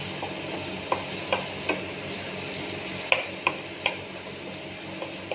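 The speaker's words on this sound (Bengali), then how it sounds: "এবার এই মাখনে এই রসুনটা ভাজা ভাজা হবে" Garlic fries quietly in melted butter under a soft, steady sizzle, while a spoon stirs and taps the pan in sharp, evenly spaced clicks.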